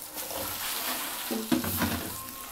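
Potatoes and spices fry and get stirred in a pot for aloo tahari, giving a soft continuous sizzle with scraping stirs and a few light clinks of the utensil, close by, and no talking.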